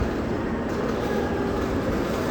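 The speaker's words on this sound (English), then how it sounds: "There's a double-decker train again," A double-decker passenger train at a station gives off a loud, steady low rumble and rolling rail noise that stays constant and close throughout.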